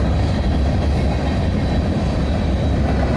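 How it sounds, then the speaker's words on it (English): Train rumbling past right outside a house, a loud, steady, close roar of rail traffic with no break, heavy low rumble and a faint high whine. "The realtor lied to me about the frequency of these trains. They come by quite often."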